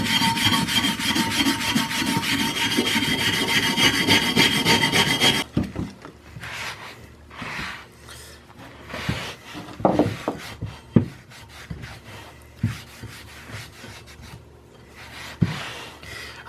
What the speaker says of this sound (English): let's go ahead and scrub on it a little bit and see what we can get off.